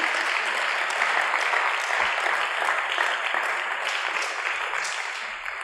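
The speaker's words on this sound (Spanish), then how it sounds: "le damos un aplauso de bienvenida" A church congregation claps continuously in a dense, even round of applause to welcome first-time visitors, fading slightly over about six seconds with no talking.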